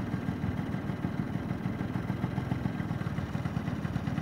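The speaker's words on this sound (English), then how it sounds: "it's a really quiet scooter for 50cc" A 2006 PGO T Rex 50cc scooter idles steadily with a good muffler, a quiet, even low putter that stays close and constant without revving.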